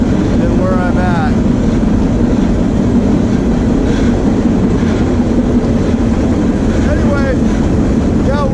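A long freight train rolling past near Medina, Utah, produces a loud, steady, close rumble that persists throughout, with wavering whining tones rising above the roar.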